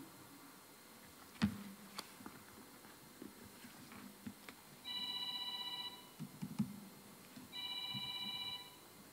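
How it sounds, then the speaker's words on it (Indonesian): An office telephone rings in two bursts of electronic trilling, each lasting about a second, in a quiet room with a few faint knocks and ticks between the rings. "Tolong Pak Setiawan, angkat telepon dong."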